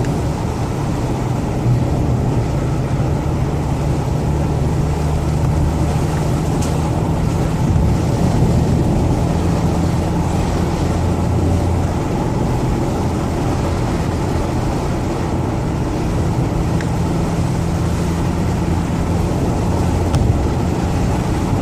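A car cruising along rural back roads at around 40 mph, a steady low engine drone with road and wind rush throughout, continuous and close with no talking.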